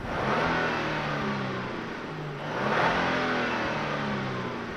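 A 2023 Genesis G90's engine revs hard through the exhaust, rising and falling in two broad surges over a steady low rumble, heard from close outside.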